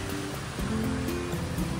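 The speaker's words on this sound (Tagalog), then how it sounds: "Malabagyong ulan pero walang bagyo." Heavy monsoon rain during the Philippine rainy season, a dense, steady roar of downpour that stays loud throughout with no voices.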